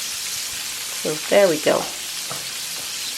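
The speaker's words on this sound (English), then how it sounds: "So I'm frying my chicken 5 to 6 minutes on each side." Steady broadband sizzle of buttermilk fried chicken frying in oil runs throughout, with a brief spoken remark from a nearby voice partway through.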